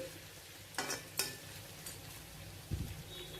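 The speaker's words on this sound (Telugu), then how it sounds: "హై ఫ్లేమ్కి మీడియం ఫ్లేమ్కి అడ్జస్ట్ చేసుకుంటూ ఫ్రై చేసుకోవాలి" Chicken pieces for a village-style kodi vepudu frying in a little oil in a pan, stirred over high to medium flame; a steady low sizzle with a few scraping stir strokes, no talking.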